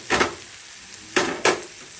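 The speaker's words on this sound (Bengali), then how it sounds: "গ্রেট করা পনিরগুলো দিয়ে দিচ্ছি।" Grated paneer dropped into a hot pan for paneer tadka, three short bursts of sizzling and stirring, close and fairly loud, with quiet gaps between them.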